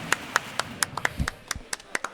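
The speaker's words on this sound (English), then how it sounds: "Claps all around from the venue." A few people in the audience clap at a Sumapa 84 Smash Bros grand finals tournament venue. The claps are faint and scattered, a dozen or so sharp slaps that come irregularly rather than as full applause.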